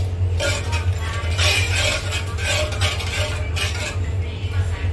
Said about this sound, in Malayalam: ഇത്രയും ചേർത്തിട്ട് നല്ലോണം ഒന്ന് ഇളക്കി